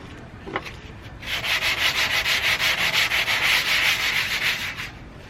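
Hand sanding with 80 grit 3M sandpaper, a close, rhythmic scratchy rubbing in quick back-and-forth strokes that starts after a quiet moment and runs on steadily.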